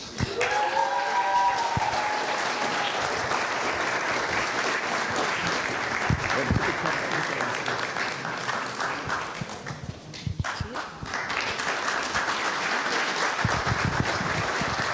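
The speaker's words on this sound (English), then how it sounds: "let's just get the claps going" A crowd claps loudly and steadily for a best directing winner at the 18th FilmAid Film Festival, a dense wash of applause that dips briefly near the end before swelling again.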